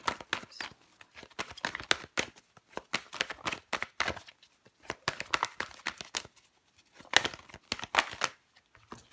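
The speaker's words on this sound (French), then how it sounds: "Je vais recouvrir la carte des amoureux." Tarot cards being handled and laid down, with dense bursts of close, crisp shuffling, sliding and flicking that come in clusters with short pauses between them.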